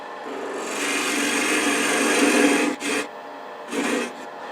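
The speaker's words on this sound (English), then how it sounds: "Now let's go ahead and part it off." A wooden ornament finial spins on a lathe as a tool parts it off, producing a steady rasping, scraping cut that swells, stops briefly, then resumes in short bursts, close and fairly loud.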